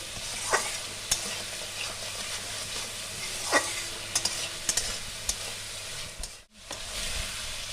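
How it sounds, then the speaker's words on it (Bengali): Spice masala for muri ghonto frying in a pan, a steady close sizzle with occasional sharper stirring clicks and scrapes, continuous throughout with no voices. "দেখুন মশলাটা আমার ভালো করে ভাজা হয়ে গেছে"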